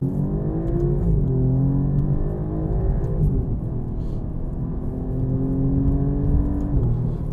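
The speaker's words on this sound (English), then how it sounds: "We're gonna get the car fired up" An Alfa Romeo Giulia Quadrifoglio sports sedan idles after firing up, a loud, close, deep engine rumble holding steady with slowly shifting tones throughout.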